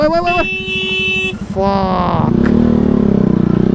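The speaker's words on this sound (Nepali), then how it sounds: "तपाईँलाई यो बाइकको साउन्ड कस्तो लाग्छ" A motorcycle engine revs and drones up close, loud and shifting in pitch, with a brief horn-like tone and voices over it.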